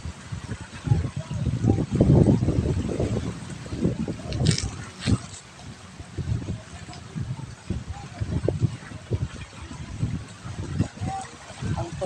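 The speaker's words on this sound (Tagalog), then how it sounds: "Yung tunog ng alon" Ocean waves wash ashore in low, rumbling surges that rise and fall, with gusts of wind buffeting the microphone and a person talking over the water.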